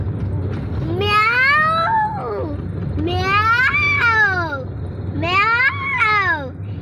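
A person mimics a cat, giving three drawn-out, wavering meows with short pauses between them over faint background hum.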